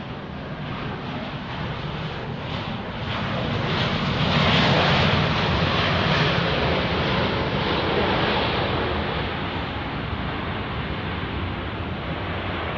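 A Southwest airliner takes off from runway 31 left at Dallas Love Field with a broad, continuous jet engine roar that swells to a peak midway and then holds steady, loud and close, with no voices.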